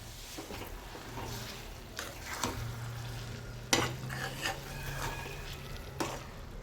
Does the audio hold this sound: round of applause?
no